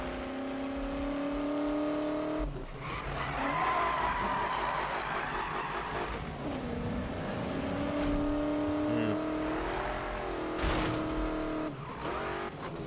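A '69 Mustang BOSS and rival cars, McLarens and high-end Porsches, race in Need for Speed, engines droning and shifting gears with rising revs, a steady loud roar throughout.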